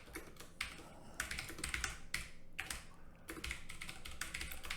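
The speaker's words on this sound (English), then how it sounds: "I could type gibberish." Fingers clatter rapidly on a computer keyboard in uneven bursts of clicky keystrokes with brief pauses between them, close and fairly quiet, no voices.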